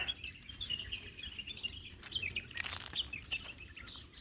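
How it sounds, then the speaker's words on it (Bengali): Faint birds chirp and tweet in scattered bursts, somewhat distant, over a quiet outdoor background at a resort in Al Qassim, Buraydah. "একটু পাখির আওয়াজ শুনুন কিচির মিচির"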